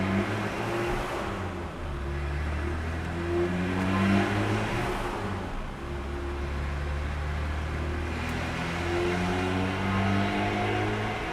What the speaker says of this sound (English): We're doing third gear pulls.